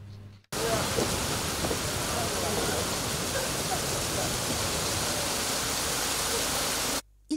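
Steady rain pours down on a beach picnic of media colleagues, a dense continuous hiss that fills the scene loudly from start to near the end, with short quiet gaps at either edge.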